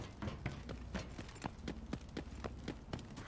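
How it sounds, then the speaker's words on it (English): Rapid, evenly spaced footsteps from a character in the shooter Delta Force, roughly a dozen sharp thuds over a few seconds against a steady background hum, with no talk. "Heard footsteps there. Could be someone down"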